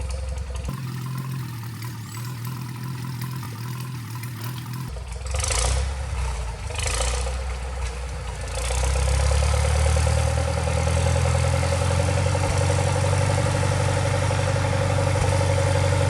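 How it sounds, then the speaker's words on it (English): A Farmall 400 LP propane tractor engine starts and settles into a steady, loud, close idle, then opens up to a louder, continuous wide-open run in low gear. "the much younger brother is going to try to run a 400 Farmall, that propane tractor"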